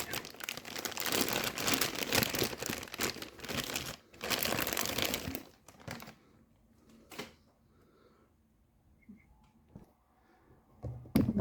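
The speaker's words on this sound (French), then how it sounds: "Voilà, j'ai déballé la figurine." A Kenshin Himura figurine is unwrapped from its packaging, with loud, close crinkling and rustling of wrap for several seconds, then a pause and sparse, quieter handling clicks and rustles.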